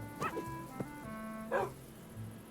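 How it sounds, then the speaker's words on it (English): Short yips and barks from a dog in the Forever World game, several separate calls spread over a few seconds with no talking. "The doggy. It's the doggy."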